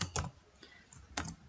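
Computer keyboard typing while entering variable names into SPSS: a few quiet, close clicky keystrokes in small clusters separated by short pauses, with no talking.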